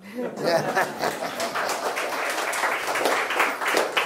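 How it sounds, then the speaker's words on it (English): An audience applauds for Sister Jana at a spiritual Rakshabandhan gathering: dense, steady clapping sustained for about four seconds, mixed with some chuckling and laughter. "You must give her a big clap."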